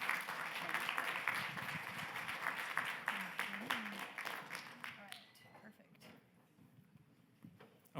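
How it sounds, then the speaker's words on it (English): Audience applause for speakers at a medical conference session, a dense wash of clapping that is loud at first and tapers off over several seconds, with a low voice murmuring underneath. "Let's give them a round of applause so they don't feel awkward."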